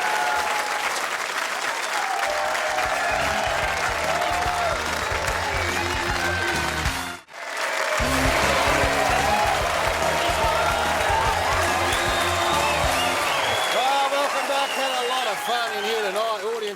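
Studio audience on a TV football show claps in a long, dense wave of applause that briefly cuts out and then resumes, with music and a host's voice running over it.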